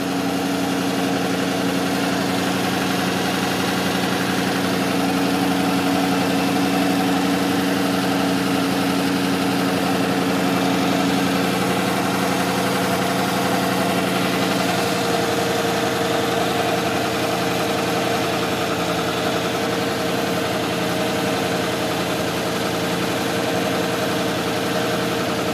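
A 1993 Ford F-150 pickup with a 5.0 V8 idles steadily, its low, even rumble and hum continuing unbroken throughout with no talking.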